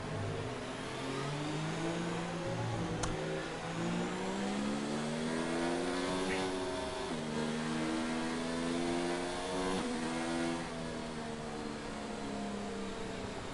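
F1 race cars on a warm-up lap in a racing video game at Brazil, steady engine whine with rising and falling revs as gears shift, several cars droning together at moderate volume.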